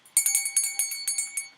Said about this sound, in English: Here's a bell.